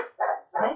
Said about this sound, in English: They will continue barking until he gets back.